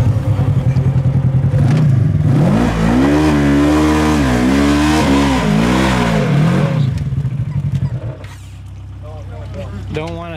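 A four-wheel drive vehicle in a mud bog revs hard, its engine rising and falling in loud close surges before dropping to a lower rumble, with people talking over it.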